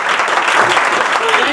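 An audience at a vocal soirée and showcase claps steadily and densely after a song, a sustained wash of applause with no pause.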